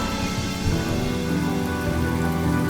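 Steady, dense rain falls in the video game Honkai: Star Rail, a constant even hiss with no voices and no breaks.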